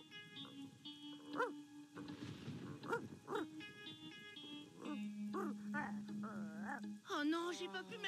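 A cartoon dog yips and barks in short bursts, mixed with whimpering sounds, while cartoon characters talk over and between the barks.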